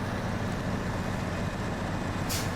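A heavy truck engine drones steadily in SnowRunner on hardcore mode in Michigan, a constant low rumble driving through mud with a brief hiss near the end.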